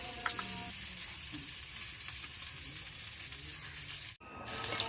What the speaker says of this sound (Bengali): এদিকে আমার মাছ ভাজাও হয়ে গেছে